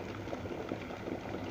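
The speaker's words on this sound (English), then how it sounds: "roaring, boiling water." Water at a full rolling boil in a new glass electric kettle pot, a steady close bubbling roar that runs throughout with no talk.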